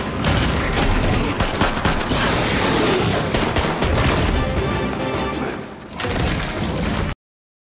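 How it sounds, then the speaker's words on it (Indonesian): Gunfire from a film's monster battle sequence comes in loud, dense, nearly continuous volleys of shots and crashes, dipping briefly before a final burst. "Tembakan, tikaman, bahkan lemparan senjata paling mematikan milik Fatty, yaitu permen lollipop"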